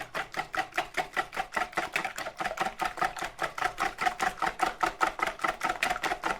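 Eggs whisked by hand in a bowl for an omelette, a steady fast rhythm of light clicking, tapping strokes, close and fairly quiet, with no talking over it.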